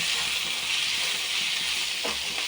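Mussels fry in coconut oil with salt and turmeric, making a loud, continuous close sizzle with a brief crackling burst near the end and no voices.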